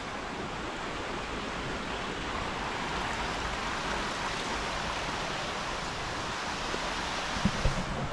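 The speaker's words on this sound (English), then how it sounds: "These waterfalls are gorgeous." Waterfalls in Swatara State Park rush in a continuous broadband roar of falling water, steady and fairly close, with a few brief knocks near the end.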